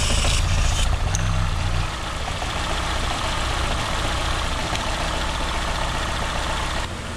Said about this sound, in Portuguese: O carro pegou. Ele tá funcionando com 3 cilindros só.